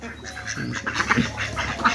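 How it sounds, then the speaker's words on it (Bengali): Several ducks quacking nearby in scattered, overlapping calls, with some background noise and faint voices. "কত সুন্দর হাঁস এগুলো"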